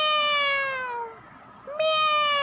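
A meow voiced by a person imitating a cat, one drawn-out call that falls and then rises again, loud and close with no other sound.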